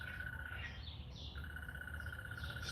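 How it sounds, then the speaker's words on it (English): Birds chirp outdoors in a steady, high repeating call, with a second bird twittering intermittently over a constant hiss of ambient noise. "Yeah, listen to those birds."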